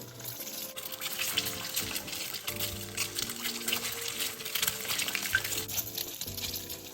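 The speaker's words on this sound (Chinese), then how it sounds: "油热后，再将备好的水煮蛋放入油炸" Boiled eggs deep-frying in hot oil give a continuous crackling, bubbling sizzle at moderate volume, with light clatter and music underneath.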